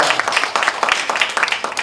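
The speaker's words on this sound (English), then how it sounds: "A lot of applause when we talk about that Finch" Audience applause at a Toronto mayoral debate, a dense patter of many hands clapping steadily with some cheering voices mixed in, fairly close and continuous.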